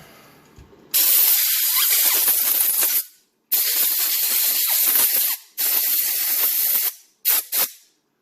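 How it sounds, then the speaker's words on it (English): Compressed-air blower blasting a disassembled National Detroit DA sander clean: loud broadband hissing bursts, three long blasts of two to three seconds each, then two short puffs, with no talking. "Let's get the blower and blow it off real quick."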